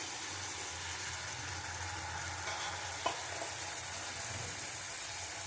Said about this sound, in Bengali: আবার একটু কষিয়ে নেবো।